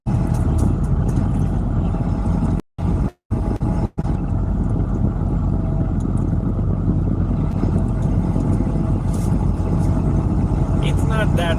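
A car drives through Los Angeles traffic, its interior filled with a loud, steady low road and engine rumble, broken by a few brief dropouts, with speech present throughout.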